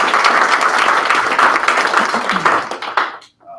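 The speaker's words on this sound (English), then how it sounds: "if we could briefly applaud our students" Enthusiastic applause and clapping for students from an audience at a school gathering, dense and sustained before tapering off quickly into near silence.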